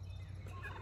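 Farm turkeys gobble in a short, fairly close burst over a steady low rumble of background noise, with no talking.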